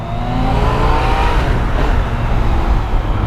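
Engine of a 2016 Yamaha FJ-09 motorcycle pulling up through a long first gear, a steady close drone with rising harmonic whine and wind rush, no talking.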